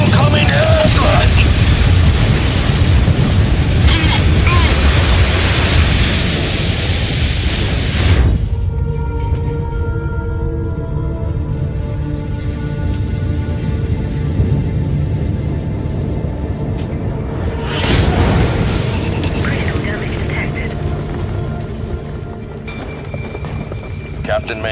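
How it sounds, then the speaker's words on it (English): Airstrike explosions in the video game MechWarrior 5: Mercenaries, heavy booming blasts with a deep roar that fades into rumbling and rings out, then another loud burst rises later, with voices talking during the sequence. "Incoming airstrike!"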